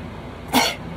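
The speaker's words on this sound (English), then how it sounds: "I sneeze." A single short, sharp sneeze bursts out close to the microphone, breathy and abrupt, against a quiet background.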